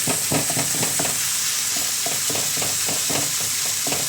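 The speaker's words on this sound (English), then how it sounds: "So I'm starting to break it up. Go through it with a spatula." Ground beef browns in a hot pan with a steady loud sizzle, while a spatula repeatedly scrapes and chops through the meat in a quick, regular rhythm of close knocks.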